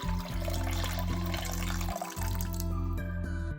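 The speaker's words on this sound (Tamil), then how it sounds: "இதோட தேவையான அளவு புளித்தண்ணி சேர்க்குறேன்" Tamarind water being poured into a cooking pot for an oil-free fish kulambu, a steady loud liquid rush that fills the whole stretch with a slight change near the end.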